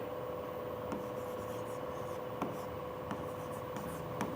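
Handwriting on a surface during a chemistry lesson, faint scratchy pen or chalk strokes with occasional sharper taps over a steady background hum.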